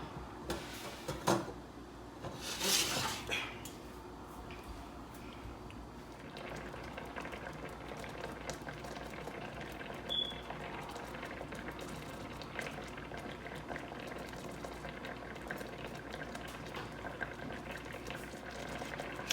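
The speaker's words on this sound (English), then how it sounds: "we're gonna let that boil first, and then we're gonna turn it down" Water boiling on high heat in a pot for seasoned rice, a steady low bubbling hiss throughout with a few clinks and knocks near the start, fairly quiet and close.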